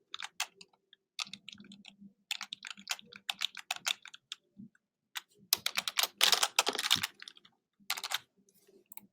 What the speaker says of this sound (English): they start typing in